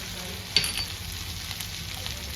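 Asafoetida hitting hot oil in a pan while cooking spinach and broken-wheat khichdi, giving a steady close sizzle with a sharp crackle burst near the start.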